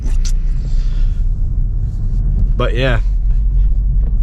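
A Type R car rumbles steadily from inside the cabin while driving around town, with a brief spoken comment over the low, constant engine and road noise.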